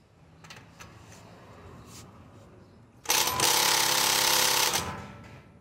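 A budget impact gun set to loosen a screw is preceded by a few light taps, then bursts into a loud, harsh hammering rattle that lasts nearly two seconds before winding down.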